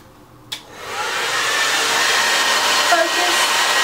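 A hair dryer switches on with a click and then blows steadily and loudly during an at-home blow out with a brush.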